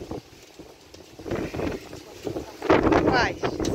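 Strong, gusty wind roars and buffets the microphone outdoors, swelling louder toward the end, with a voice faintly audible beneath it.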